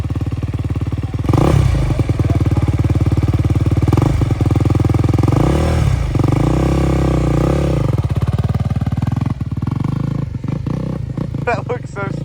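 250 dirt bike engine running loud and near, with repeated revving swells and rattling idle, ending in sharp clattering bursts; people talk over the engine.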